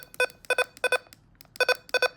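Short electronic button beeps from a Midland HH54VP handheld radio in quick pairs and clusters, five bursts spread unevenly, crisp and close with little else around them.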